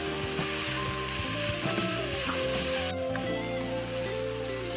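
Garlic sizzles steadily in a hot pan as it is stirred, with a close, continuous frying hiss, a few scraping stir sounds and a brief sharper clatter near the end.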